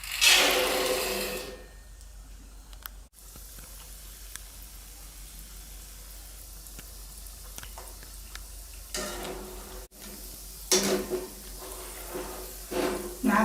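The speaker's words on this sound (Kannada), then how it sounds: "ಎಣ್ಣೆ ಕಾಯಕ್ಕಿಟ್ಟಿದ್ದೆ, ಕಾದಿದೆ. ಇವಾಗ ಮೊದಲು ಶೇಂಗಾನ ಫ್ರೈ ಮಾಡ್ಕೊಳ್ಳೋಣ." Peanuts fry in hot oil for churumuri masala bhadang, a soft steady sizzle with occasional louder crackling bursts and a stir or two, no voices.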